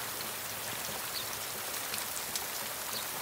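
Water from a garden watering sprays onto kidney bean plants, a soft, even hiss of droplets pattering on leaves and soil, faint and steady with no talk.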